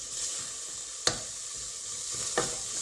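Ingredients with mustard for a winter warming soup stirred in a hot pan, a steady hiss of frying broken by two sharp utensil knocks against the pan, no talking.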